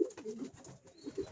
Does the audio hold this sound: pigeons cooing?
yes